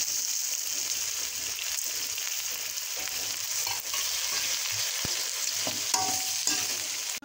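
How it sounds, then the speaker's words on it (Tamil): Potatoes with turmeric powder and salt sauté in a pan with a steady, loud sizzle and hiss throughout, broken by occasional scraping stirs, with no one speaking. "நம்ம இப்போ உருளைக்கிழங்கு, மஞ்சள் பொடி, உப்பு இது எல்லாமே வந்து ஒன்றா போட்டு நல்லா வதக்கிட்டு போகிறோம்."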